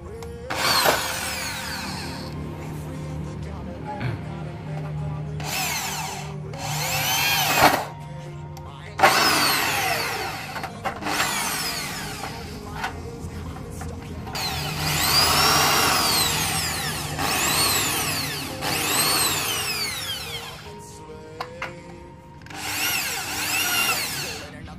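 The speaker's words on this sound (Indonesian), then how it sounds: "baru kita bor sampai bolong ya" A power drill bores through a marked spot while a 5000-watt home power inverter is assembled, whining in repeated loud bursts separated by short pauses, with the pitch rising and falling as the bit works through the material.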